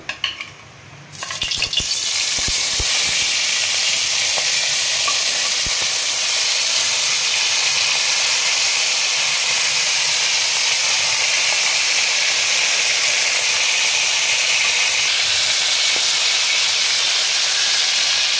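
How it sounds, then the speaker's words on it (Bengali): Steady, loud sizzling of prawns frying in hot oil, a dense hiss that starts after a brief clatter and continues unbroken with occasional stirring. "প্রথমে মাছগুলো আমি একটু সাঁতলে নেব।"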